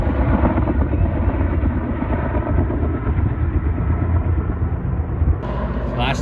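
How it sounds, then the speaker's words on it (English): A twin-rotor K-Max helicopter approaching Kamloops Airport in British Columbia gives a loud, steady rotor and engine rumble that stays continuous and close throughout. "Double propellered K-Max. Coming into Kamloops Airport."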